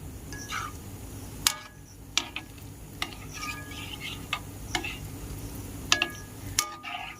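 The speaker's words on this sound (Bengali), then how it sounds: "এখন আমি একটি চামচ দিয়ে একটু নাড়িয়ে দিচ্ছি" A spoon stirs ripe jackfruit fritters frying in oil, giving sharp, scattered clicks and scrapes at irregular intervals over a low, steady sizzle.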